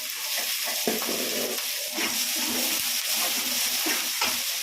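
Onions and fennel seeds frying in a pan during home cooking, giving a steady close sizzle with occasional stirring scrapes, no talk heard.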